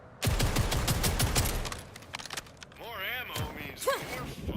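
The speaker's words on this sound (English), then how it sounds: "That is a lot of fire rate on a shotgun." A rapid-fire shotgun in Borderlands 4 unloads a fast, loud burst of shots, followed by a voice speaking as the firing stops.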